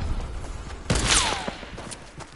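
A single sharp gunshot rings out midway through a sniper video game shootout, followed by a short whizzing, ringing trail over quieter game ambience.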